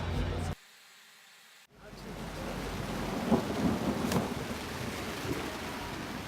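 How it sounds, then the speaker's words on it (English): Low rumbling thunder at Glastonbury rolls in after a brief quiet gap, a broad steady roar with rain-like hiss over it, fairly loud and continuing to the end. "That is the sound of Glastonbury thunder"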